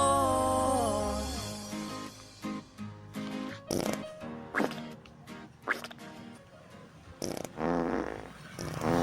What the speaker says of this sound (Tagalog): Mutingog nga utot na ay hungaw nga utot